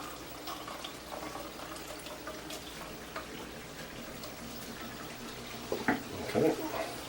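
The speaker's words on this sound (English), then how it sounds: "I want to drain the water off of this so that when we end up finished with the meat, it's dry." Fluid drained off browned meat for a spaghetti sauce makes a steady, soft rush of pouring liquid, with a few brief clinks and splashes near the end.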